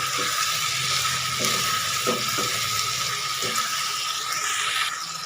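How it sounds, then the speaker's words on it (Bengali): Chicken frying in a pan with chopped tomato, giving a steady, close, even sizzle throughout, with a few soft knocks from stirring or handling. "টমেটো কুচি দিয়ে দু মিনিট আবার ভালো করে ভেজে নেবো এটাকে"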